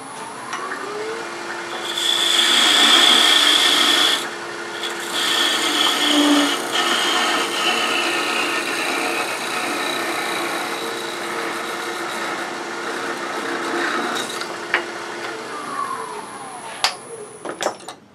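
Wood lathe turning a chickadee ornament as it is parted off and sanded, a loud rasping, whirring burst early on followed by steady softer rubbing and spinning noise, with brief clicks near the end.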